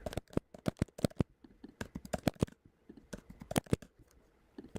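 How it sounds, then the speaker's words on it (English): Very loud, rapid typing on a MacBook laptop keyboard, sharp close clicks in irregular bursts with brief pauses, alone without talk. "that is the loudest keyboard I've ever heard"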